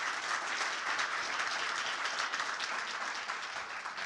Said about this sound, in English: Let's give Mr. Figueroa a big round of applause for all that information.